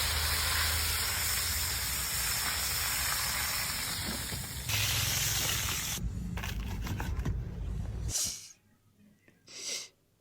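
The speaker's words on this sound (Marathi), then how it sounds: "एकदम पूर्ण आईस्क्रीम त्यानं तेलामध्ये फ्राय केलं डायरेक्टली" Batter-coated ice cream deep-fries in hot oil with a loud, steady hiss and bubbling that drops away after about eight seconds, leaving quieter spurts of sizzle.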